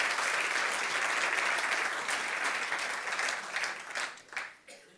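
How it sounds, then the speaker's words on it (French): Dense audience applause fills an awards ceremony hall, steady and loud for several seconds before thinning out into scattered final claps. "Vous pouvez les applaudir, ils sont parmi nous pour la plupart ce soir."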